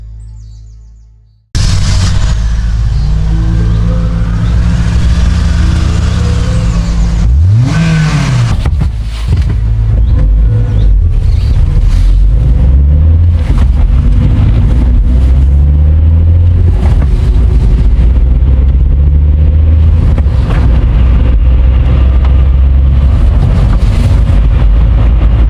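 A cartoon car drives along with a steady, loud engine drone and road rumble, joined early by a rising tonal swoop, with bird chirps over a continuous backdrop.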